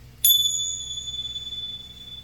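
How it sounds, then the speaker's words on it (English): A single bright bell strike for clearing energy, a clean ping that rings out and sustains with a long, slowly fading tone over quiet room noise. "So I'm going to hit the bell"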